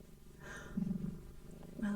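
Close, soft rumbling purr from a cat, swelling twice in brief bursts over a quiet background.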